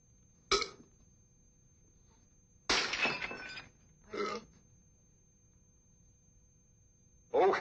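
Glass breaks in a sharp shatter, followed by a longer crash of breaking glass and two more brief crunching bursts, loud and close against a quiet room.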